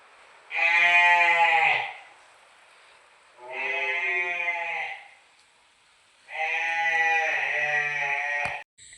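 A newborn calf calls out at night in three long, loud, drawn-out bleating cries with short pauses between them, close by and alone.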